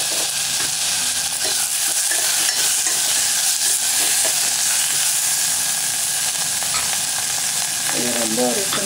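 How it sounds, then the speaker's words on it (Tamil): Onions sautéing in a pan for cabbage sambar give a steady, loud hissing sizzle throughout, close up, with a few soft stirring scrapes and no talking. "வெங்காயம் கொஞ்சம் வதங்கினா தக்காளி போட்டுக்கலாம்."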